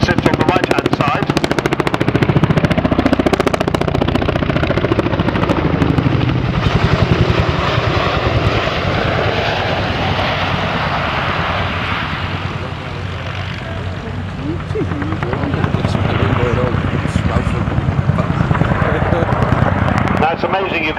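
A twin-rotor helicopter flies at the 2005 RAF Cosford air show, its rotors beating in a loud, continuous chopping thrum. The sound swells and eases slightly as the aircraft moves over a distant crowd.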